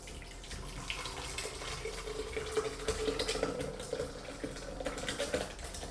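Liquid pouring steadily into a jug blender held in a kitchen sink, a continuous watery splashing stream that runs for several seconds at close range with no talk.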